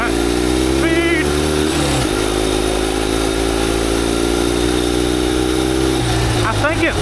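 A turbocharged generator-engine mini bike with a four-speed gearbox, ridden on ice, drones loudly and steadily up close, with pitch rising as it revs and dropping at a gear change, and a voice speaking over it.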